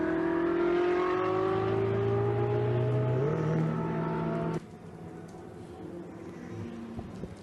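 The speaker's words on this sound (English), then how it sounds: "there is the Chris Froggatt number 93 car, complete with the damage" Ferrari Challenge race car engines at the Hungaroring, steady high-pitched engine whine that rises in pitch and then cuts off, leaving a quieter rumble.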